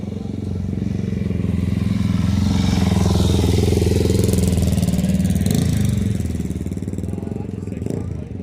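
A car engine runs at a car show, a loud, close, rough rumble that swells and fades slightly over several seconds.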